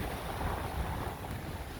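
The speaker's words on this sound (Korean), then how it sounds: "근데 파도가 되게 많이 친다." Sea waves roll steadily onto a shore, a constant broad rush mixed with heavy wind buffeting the microphone, with no voices.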